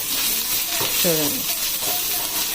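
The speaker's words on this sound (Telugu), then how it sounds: "ఇలా ఒక 2 మినిట్స్ వేయించుకోవాలండి" Spices sizzle and fry steadily in a hot pan while being stirred for a stuffed eggplant curry, a continuous hiss beneath brief speech.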